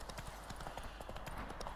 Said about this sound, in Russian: Это круто, что можно призывать к себе нашу лошадку, чтобы далеко не бегать.